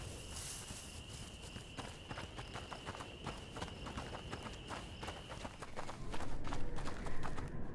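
Rhythmic clip-clop of horse hooves at a steady walking pace in the video game A Plague Tale: Innocence, clear and fairly close, with a faint tonal hum in the background.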